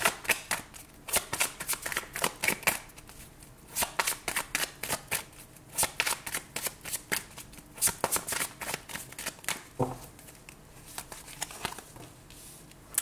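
Tarot cards are shuffled continuously before a reading, producing rapid, rhythmic riffling and slapping bursts close to the microphone, with no talking.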